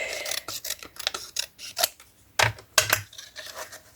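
Scissors snipping paper for a handmade junk journal, a run of short crisp cuts in an irregular rhythm, close and fairly quiet with no talk.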